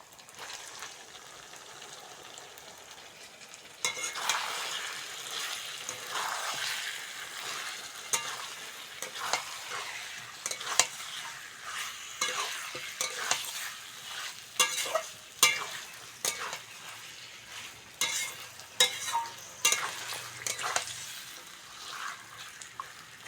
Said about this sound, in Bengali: চিকেনটা হালকা করে ভেজে নিয়েছি